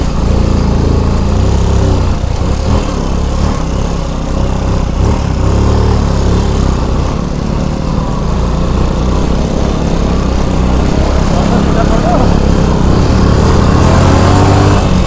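A motorcycle engine runs steadily at close range on a rough rural route near Ranikot, Bhaktapur, its rough low throb loud and continuous, with the bike starting to misbehave slightly.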